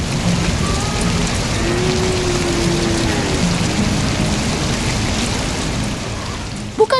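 Steady, dense rainfall patters across surfaces in a 3D cartoon, a constant hiss at even loudness throughout, with a faint tonal line in the background and a couple of small knocks near the end.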